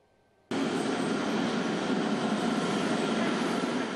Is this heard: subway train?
yes